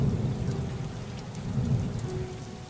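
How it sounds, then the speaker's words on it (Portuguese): Heavy night rain pours steadily with low rumbling thunder and gusting wind, a dense continuous roar that swells and eases slightly over its length, with no voices. "Uma chuva acompanhada de raios, trovões e um vendaval"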